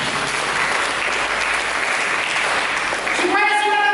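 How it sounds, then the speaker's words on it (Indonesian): Congregation in a church service celebrating a water baptism claps together in a loud, dense wash of applause that holds steady throughout, with music-like tones entering near the end. "Berikan tepuk tangan bagi"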